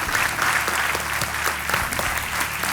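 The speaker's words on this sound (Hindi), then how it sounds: "तालियों के साथ आपका स्वागत।" Studio audience applause on a televised quiz show set, KBC, a steady dense wash of clapping that holds loud and even throughout with no voices over it.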